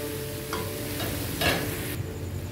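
Homemade egg noodles being stirred and tossed in a hot pan, a continuous sizzle with a few scraping utensil strokes, one louder rustling toss in the middle, close and alone.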